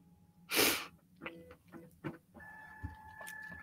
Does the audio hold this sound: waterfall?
no